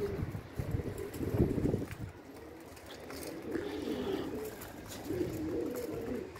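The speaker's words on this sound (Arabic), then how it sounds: "نتمنى تكونوا كتولعوا معنا شوية حمام لهي في الماكلة" Pigeons cooing while they feed, low soft coos repeating in bursts at close range over a faint breezy outdoor background.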